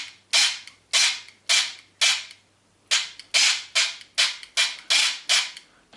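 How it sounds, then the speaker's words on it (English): An airsoft gun with a dual sector gear build fires in three-round burst mode: sharp, close, loud mechanical cracks in quick rapid groups separated by short pauses, with no talking. "I think I've got a 3-round burst mode programmed on here at the moment."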